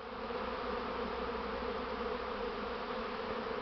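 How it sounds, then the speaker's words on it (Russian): Honeybees from a first swarm of the season crawl on the ground near a hive, a dense steady buzzing hum that stays close and unbroken with no speech. "То, что пчелы много тут на земле ходит у нас."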